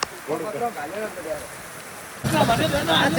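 A person talks over a soft background, then a village downpour in Vithodar abruptly swells into a loud, steady wash of falling water that continues to the end.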